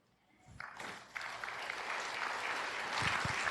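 A church congregation bursts into applause during a Tagalog sermon on firstfruits offering, clapping rising quickly from near silence and swelling into a fuller, steady round.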